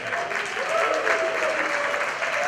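Audience at a fundraising evening applauding a singer onto the stage, a dense, even wash of clapping held steady throughout, fairly loud and close, with faint voices mixed in.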